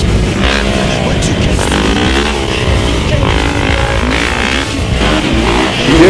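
A motorcycle engine revs loudly and continuously at a street bike-life gathering in downtown Dallas, Texas, droning with rising and falling pitch, close by, with other vehicles and faint voices mixed in.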